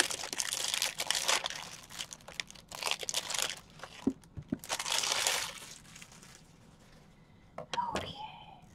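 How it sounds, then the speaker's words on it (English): Plastic packaging crinkling and being cut open with scissors, close-up bursts of crackly rustling and snips that come and go, growing quieter toward the end. "Alright, I'm going to take scissors."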